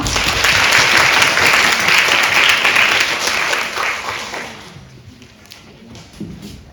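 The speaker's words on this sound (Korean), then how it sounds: "큰 박수와 환호 부탁드립니다" Loud, dense applause with some cheering from an audience at a university physical therapy department academic festival party, swelling for about four seconds then thinning out to scattered claps.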